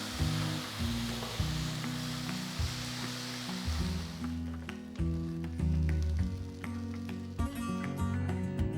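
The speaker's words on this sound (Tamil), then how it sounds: "இப்போ 1 கப் அளவுக்கு தண்ணி ஊற்றி" Water poured into moong dal roasting in a pan makes a loud hiss and sizzle that settles into bubbling and stirring, with faint clinks.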